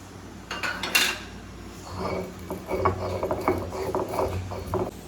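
Roasted whole coriander and fennel seeds being ground, giving a close, rhythmic run of scraping, rattling clatter that starts with a sharp knock and keeps up its uneven beat to the end.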